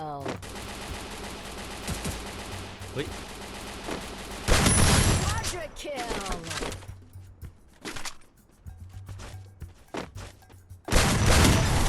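Shotgun gunfire in the mobile battle game Free Fire: loud broadband blasts in two clusters, one around the middle and one at the end, set against busy game music and effects.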